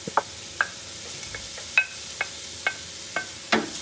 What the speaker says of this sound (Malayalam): ഇതെല്ലാം കൂടെ നന്നായിട്ടൊന്ന് വഴറ്റാം.